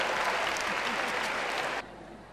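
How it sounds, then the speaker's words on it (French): Short burst of audience applause at a comedy show, a dense wash of clapping that cuts off abruptly near the end, leaving quieter room noise. "On s'applaudit parce que nous sommes les meilleurs."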